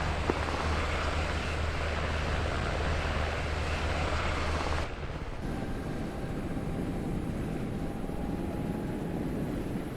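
A fixed-wing aircraft flying at about 100 knots and slowing during strike package training, a steady loud engine and wind drone that shifts abruptly midway to a thinner, lighter hum with a faint tone.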